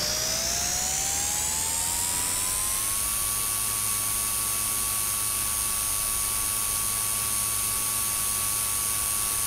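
A steady, whining rotor and motor hum of a small Blade 230S RC helicopter in the RealFlight Trainer Edition simulator, rising in pitch at first and then holding level, with no talking.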